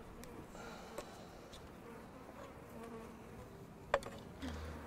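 Honeybees buzzing around an open beehive, a faint, steady hum of many insects with occasional single bees droning closer past the listener.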